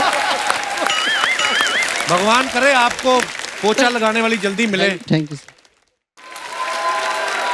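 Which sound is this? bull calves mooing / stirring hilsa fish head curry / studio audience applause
studio audience applause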